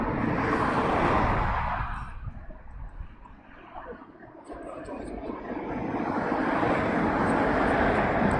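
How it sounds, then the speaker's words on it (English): Boeing C-17 military transport aircraft passing overhead near London Heathrow: a broad jet rumble that fades to a lull midway, then swells again, steady and fairly loud, with faint high tones above and no talk. "I do believe there is a C-17 flying over the top of me at the moment"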